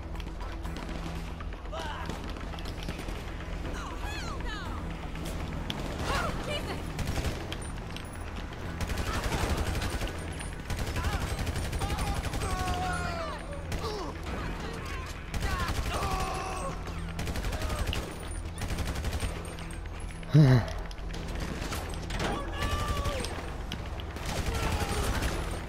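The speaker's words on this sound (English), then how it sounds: "Oh, I'm getting shot by someone." Gunfire in a GTA zombie mod on PS4, repeated bursts of shots mixed with game noise and a continuous busy background, with occasional talk over it.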